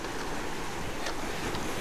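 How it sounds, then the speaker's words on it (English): Ocean surf washes against a fishing jetty in a steady broadband roar mixed with wind buffeting the microphone, continuous and fairly loud with no talking. "Right when the waves are coming."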